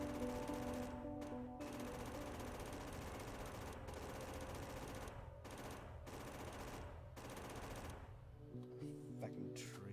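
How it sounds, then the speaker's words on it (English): Rapid automatic gunfire in Factorio as trees are shot down, dense continuous bursts with brief pauses between volleys, steady and moderately loud, with someone talking intermittently over it. "Watching me shoot trees."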